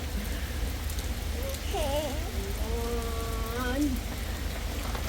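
Heavy storm rain falls in a steady, dense hiss of drops on surfaces while a voice calls out briefly in the middle over it.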